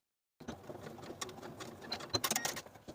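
A sewing machine bastes a fabric tab onto a wrap skirt, starting after a short silence with quick, light stitching patter in uneven bursts, close and fairly quiet, without voices.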